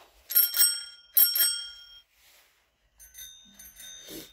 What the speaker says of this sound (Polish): tu słyszę, że coś chyba ten twój dzwonek się skopał, co?